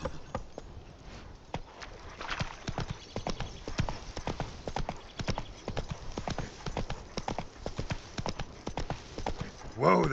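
Roach, Geralt's horse in The Witcher 3 game, clops along in a steady, close, hoof-beat rhythm throughout, with a brief snort or whinny near the end and speech-like sounds mixed in.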